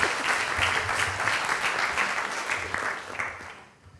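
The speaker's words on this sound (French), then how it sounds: "Vous pouvez l'applaudir." Audience applause at an event for culinary and table-arts competition winners, a dense, even clapping from a sizeable crowd that fades toward the end.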